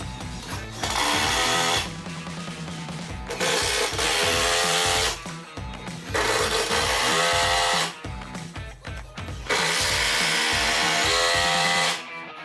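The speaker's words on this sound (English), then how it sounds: "it's critical and helps a lot to pre-drill all the holes before driving the screws" Impact driver driving screws into pre-drilled wood boards for a round picnic table, loud bursts of rapid hammering each lasting one to two seconds with short pauses between, close and alone.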